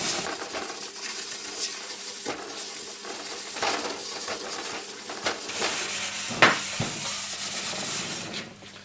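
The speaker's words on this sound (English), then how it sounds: "give it a good old scrub" Steady rough scrubbing of a stained sink with cleaning solution, a continuous, fairly close brushing rub with occasional sharper knocks and scrapes.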